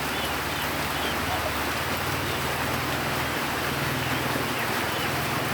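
Heavy storm rain in Sisaket, Thailand pours down in a dense, unbroken hiss, loud and steady throughout with no voices.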